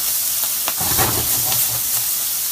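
Shishito peppers blistering in a hot pan give off a loud, steady sizzle and hiss, close up and constant, with faint stirring or scraping noises and no talking.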